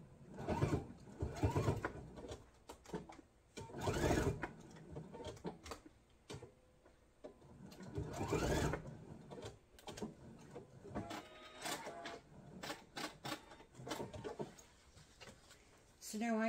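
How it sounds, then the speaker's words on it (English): A sewing machine stitching back and forth over elastic on an apron, with bursts of rapid mechanical whirring that start and stop, heard under someone talking. "I'm just going to sew back and forth a couple of times just so that I can lock in this piece of elastic"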